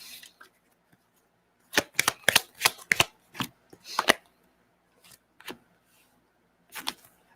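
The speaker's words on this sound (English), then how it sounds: "I'm shuffling right down in the microphone for you guys to hear." Quick bursts of crisp riffling and snapping of playing cards shuffled right at the microphone, in irregular clusters separated by quiet pauses.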